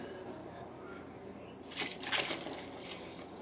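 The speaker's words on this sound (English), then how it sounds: "I'm going to add some more water," Water is poured into a grain mash during countertop all-grain homebrewing, a short splashing pour rising after a quiet start and trickling for a couple of seconds.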